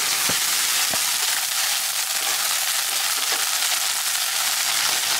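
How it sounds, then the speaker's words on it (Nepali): Okra (bhindi) frying in a pan, making a loud, dense, continuous sizzle close up, with a few faint clinks of stirring and no voices. "अब यहाँ फेरि बुढीले भिन्डी फ्राई गर्दै त्यस्तै चलिरहेछ"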